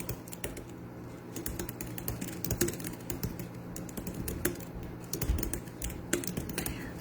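Close keystrokes on a computer keyboard tap out in an uneven, steady typing rhythm of soft clicks, fairly quiet and uninterrupted by speech.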